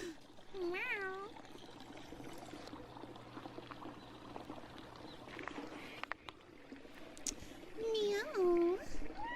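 A cat meows twice, a clear wavering call near the start and another near the end, with trickling water and some rustling in between.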